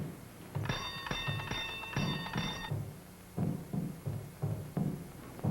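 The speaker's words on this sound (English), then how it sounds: "You ring the bell." A door bell rings in repeated bright, metallic bursts, about four rings in quick succession, followed by a series of dull thumps, all fairly faint and in a quiet room.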